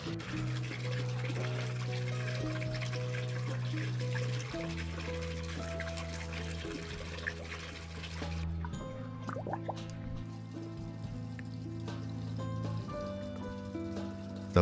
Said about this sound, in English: fresh natural hot spring water endlessly flows into the bathtub and flows out